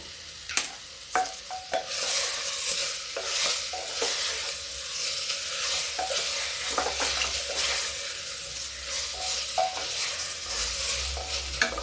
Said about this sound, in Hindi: देखिए ये भुन रहा है, इसमें हम ये टमाटर डाल देंगे।